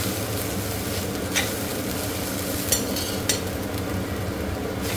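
Grated coconut roasting in hot oil, giving a steady, close sizzle and crackle with a few soft clinks of stirring.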